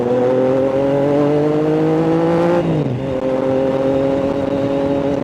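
A 2025 Triumph Trident 660 motorcycle's loud exhaust drones steadily at close range, its pitch climbing gently, then dropping sharply around a gear change before settling back into a constant, throaty hum.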